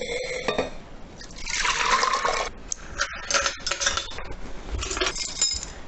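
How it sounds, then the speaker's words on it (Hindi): Water pours and splashes into a metal pressure cooker holding chickpeas, with a few clinks of utensils and a steady running flow. "तीन कप पानी डालूंगी और एक चम्मच नमक और छोले डालते हैं कुकर में"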